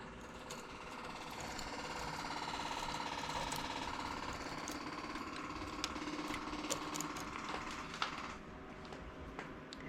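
A knitting machine carriage is drawn across its needles while lace is made, giving a steady, dense mechanical rattle and whir that runs the whole time with a few sharper clicks near the end, close and alone.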